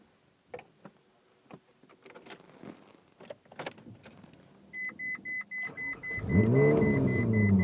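A Ferrari 458 Spider starts with a rising whir and clicks, then its engine catches and revs hard into a loud, sustained roar after a stretch of small handling noises and key clicks.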